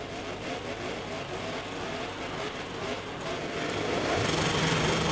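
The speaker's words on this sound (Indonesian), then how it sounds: "Engine on dan race is on." Motorcycle engines idling and revving on the grid at Phillip Island in MotoGP 24, a dense steady engine drone that swells louder near the end, with commentary over it.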